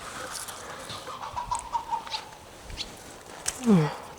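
A few short clucks from chickens, spaced out over a few seconds, with a louder squawk near the end and light background noise.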